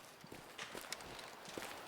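Footsteps walking through terrain in the hunting video game Way of the Hunter, a faint irregular patter of soft steps at close range, with no talking.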